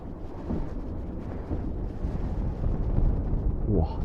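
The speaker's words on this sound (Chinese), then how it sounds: "风特别的大。" Strong wind buffets through the open, glassless cab of a tall abandoned vehicle, a steady low rumbling roar that swells slightly toward the end.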